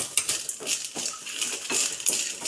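Grated coconut fries in a pan for a thoodhuvalai thuvaiyal, giving a steady close hiss and sizzle broken by light scraping and clinks of a spoon against the metal, with no talking.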